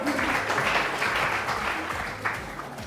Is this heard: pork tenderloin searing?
no